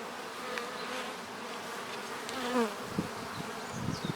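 Honeybees buzz during a hive frame inspection for disease, a soft, continuous close hum with a few louder individual bees flying past.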